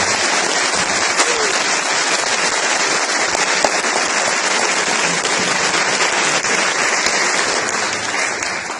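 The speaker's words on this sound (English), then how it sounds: "I want to give him a round of applause because he's a fantastic person." Loud, dense applause from an eighth grade academic awards audience for a school athletic director, continuous crowd clapping held at full strength throughout.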